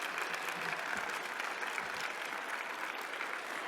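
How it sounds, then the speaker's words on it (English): A conference audience applauds after a presentation, steady dense clapping filling the whole stretch at moderate, slightly distant level. "Another warm round of applause"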